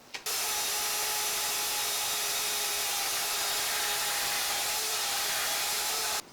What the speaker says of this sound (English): We'll start by taking this big aluminum tubing and cutting it into more of a channel.